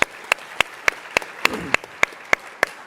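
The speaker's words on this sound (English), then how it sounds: "Give them a round of applause." Hand claps at a startup pitch competition, about ten sharp claps evenly spaced in a steady rhythm, fairly close and crisp over a low room murmur.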